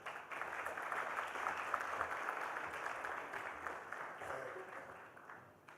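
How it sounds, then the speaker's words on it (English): Audience applause at a business conclave of Indian industry, a dense steady patter of many hands filling a large hall, swelling early and tapering toward the close, with faint chatter mixed in. "I request you to all to welcome them with a huge round of applause."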